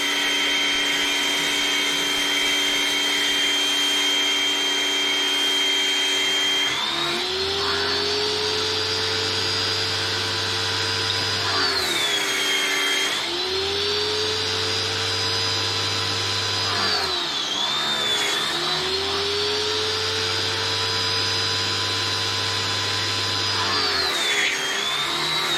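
Foam sprayer running through a hose onto a vehicle, a steady loud mechanical whine and hiss with a low motor hum that cuts out and restarts in several long bursts.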